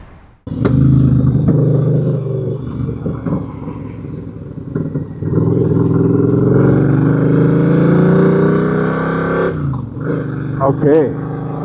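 A Triumph Speedmaster converted into a sidecar motorcycle starts up close and loud, its engine rumbling and revving through rising and falling throttle sweeps, with a brief drop before it picks up again near the end.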